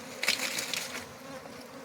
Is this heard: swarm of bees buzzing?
yes